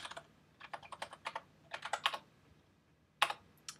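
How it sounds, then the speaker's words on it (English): Fingers type a user number and password on a computer keyboard, heard as close, crisp clusters of key clicks in quick bursts with short pauses between, ending with a couple of isolated taps. "I'll type in my user number and password that was emailed to me"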